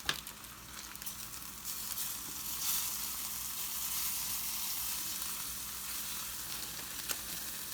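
Tacos crackle and sizzle as they fry in hot oil, a steady bubbling hiss with occasional sharper pops, fairly quiet and close, with no voices.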